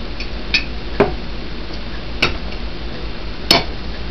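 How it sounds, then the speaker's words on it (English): Reusable swing-top lid on a glass sparkling lemonade bottle clinks shut, several sharp glassy clicks and taps spaced a second or so apart over a quiet background hum. "and you reseal the bottle."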